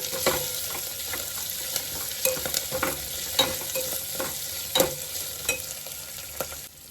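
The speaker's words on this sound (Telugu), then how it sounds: "కరివేపాకు వేసుకొని కొంచెం సేపు మగ్గించుకోవాలండి." Curry leaves frying in a pan for Hyderabadi bagara rice, with a steady close sizzle and irregular sharp crackles and pops spaced through the sizzle, alone with no talk.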